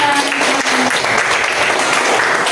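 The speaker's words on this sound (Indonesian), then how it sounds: "Oke, beri tepuk tangan." Classroom applause from a group of students, a short burst of steady, bright clapping that holds at even loudness throughout and stands alone without speech.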